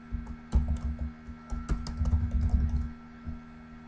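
Computer keyboard clacking as a file name is typed, a quick irregular run of close key taps with short pauses between bursts, alone in a quiet room.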